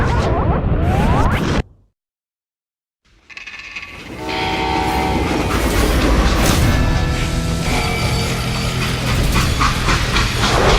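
Freight train in the Western game Call of Juarez: Gunslinger: a brief cut to silence, then a loud rolling rumble with hissing steam and sustained horn-like tones building and continuing steadily to the end.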